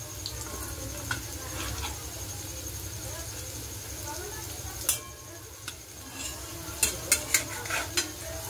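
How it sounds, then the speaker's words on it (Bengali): A fritter (bora) sizzles in oil in a pan outdoors while being turned over, a soft continuous fry with scattered ticks and sharp clicks of the utensil against the pan, louder toward the end. "বড়াটা এবার উল্টিয়ে দিচ্ছি"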